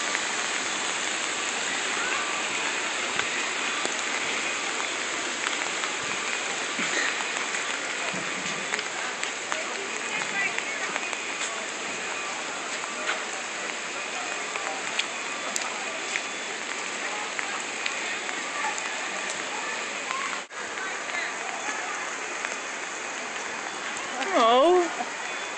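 Heavy rain pours steadily during a flash flood in Manitou Springs, Colorado, a dense, constant hiss of water close by that continues unbroken for the whole stretch.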